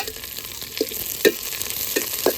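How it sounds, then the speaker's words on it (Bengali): Onion frying in oil with cardamom, black pepper, cloves, bay leaves and cinnamon pieces, a steady close sizzle broken by a few soft stirring knocks, with no voices. "পেঁয়াজের সঙ্গে ভালোভাবে ভেজে নেব।"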